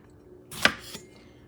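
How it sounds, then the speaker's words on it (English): A knife slices a jalapeno pepper into thin rounds on a cutting board, giving one crisp close chop followed by a fainter second cut in an otherwise quiet room. "and just cut it into thin rounds"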